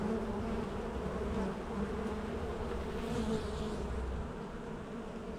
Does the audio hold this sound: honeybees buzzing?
yes